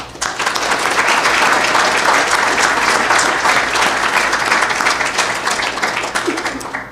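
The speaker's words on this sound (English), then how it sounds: "let's give a round of applause to all the people" A conference audience gives a sustained round of applause, dense even clapping from many hands that swells quickly, holds steady and fades near the end.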